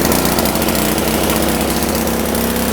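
A small engine runs loud and close right after the starter rope is pulled, a dense, steady mechanical roar with a fast buzzing pulse and no voices.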